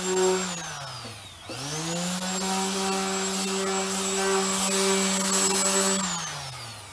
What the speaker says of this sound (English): Again, vacuum